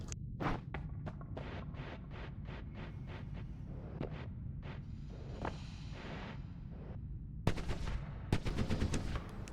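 Rapid gunfire in the pixel-physics game Noita, a fast run of sharp evenly spaced shots that thins into scattered pops and then a denser closing flurry, fairly faint over a low rumbling bed.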